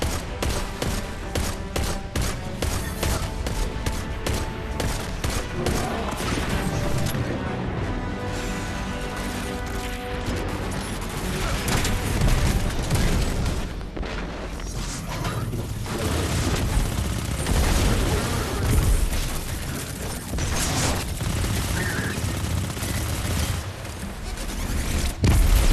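Explosive-round gunfire from a gun in the video game Destiny 2: a long, loud, unbroken barrage of rapid shots and booming blasts that keeps going throughout with hardly any pause.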